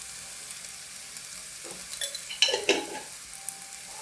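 Garam masala and ground black pepper are sautéed in a pan for a sprouted grain sundal. A faint sizzle sits under light stirring and a few clinks of the spoon against the pan.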